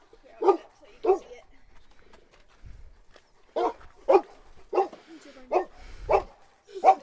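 Several short dog barks and yips in spaced bursts, close by, with a couple of low thuds in between.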